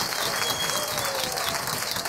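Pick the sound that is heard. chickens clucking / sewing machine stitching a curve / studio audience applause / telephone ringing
studio audience applause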